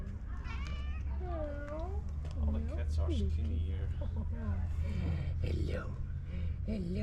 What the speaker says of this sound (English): All the cats are skinny here.